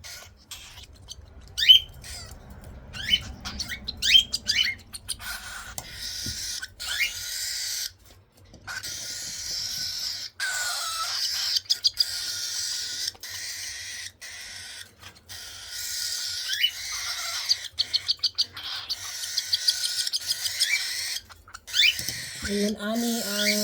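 Baby cockatiel chicks give repeated high, chirpy squawks during hand-feeding, loud and close, in bursts with short pauses and a denser stretch of continuous calling near the middle.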